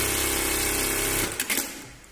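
A Sansei direct drive industrial sewing machine with thread cutter runs in a fast, close, continuous whir that halts about midway, followed by a couple of quick mechanical clicks.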